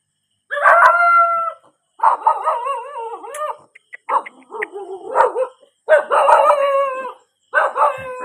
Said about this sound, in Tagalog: Gising na yung aso.